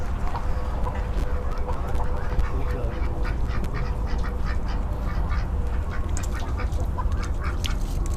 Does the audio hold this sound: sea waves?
no